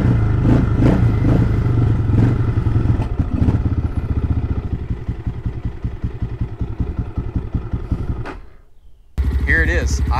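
A motorcycle fitted with a 30mm Nibbi carburetor idles from cold, a close, steady putter of rapid engine pulses that fades briefly near the end before a sharp rise in engine noise returns.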